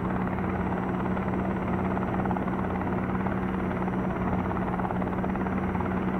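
A helicopter in a flight simulator game, its rotor and engine producing a dense, steady low drone with a pulsing chop and a constant hum, loud and unbroken throughout.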